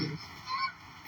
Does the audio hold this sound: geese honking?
yes